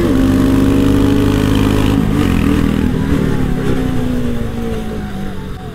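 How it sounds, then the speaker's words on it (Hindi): A Royal Enfield Bullet and a Bajaj Pulsar RS200 race side by side, their engines a loud, close, sustained drone whose pitch dips slightly partway through and then holds steady. "तगड़ी बाइक चला रहा है भाई।"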